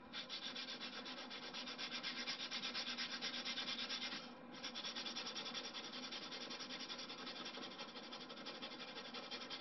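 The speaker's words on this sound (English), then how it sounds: "And now what I'm going to do is I'm now sanding this" Steady, rhythmic rasp of a sanding block rubbed back and forth over balsa wood, close and continuous with one brief break.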